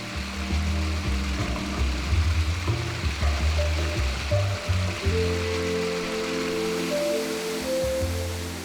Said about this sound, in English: There are rivulets and clear streams everywhere.